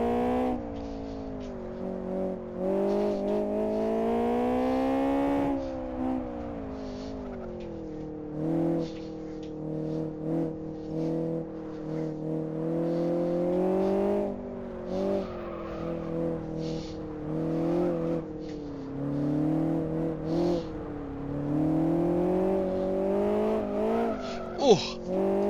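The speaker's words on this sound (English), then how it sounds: "Reaching the top of second gear." A sim-racing car engine in an autocross setting revs hard near the top of second gear, a loud, continuous wailing drone that rises and falls with throttle, with brief tire squeals and dips as it shifts and lifts.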